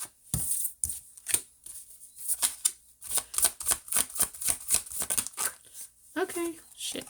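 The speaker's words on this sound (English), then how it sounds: "Let me see if I can pull it from these cards too." Tarot cards being shuffled in quick bursts of riffling and slapping, with short pauses between passes, close and crisp, followed by brief sounds at the end.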